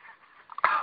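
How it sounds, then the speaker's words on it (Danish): A hedgehog puffs and huffs at close range in short, breathy wheezing bursts that grow louder at the end, with no speech over them. "Prøv at se, hvor han puster."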